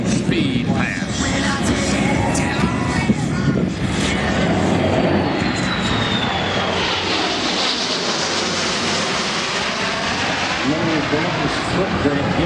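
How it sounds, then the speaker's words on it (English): A Boeing C-17 Globemaster III military transport jet roars past in a high-speed air show pass, its broad engine rumble steady and then shifting in pitch as it passes, with a voice talking over it. "Listen to the quiet now of the Globemaster III in this high-speed pass."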